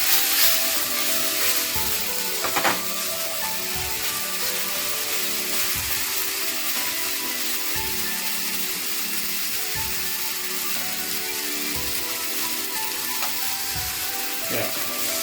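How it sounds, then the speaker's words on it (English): Chicken charring in a pan over high heat, a loud, steady sizzle and crackle that holds without a break, with faint rhythmic thumps underneath. "On high heat, I will just char it."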